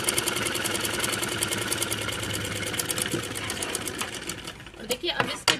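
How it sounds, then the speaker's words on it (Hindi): Electric sewing machine running a straight stitch through buckram and fabric for a Patiala salwar, a steady fast mechanical whirr with rapid even ticking, ending in a few knocks, while someone talks over it. "इन पर सीधी सिलाई लगाएंगे हल्की सी"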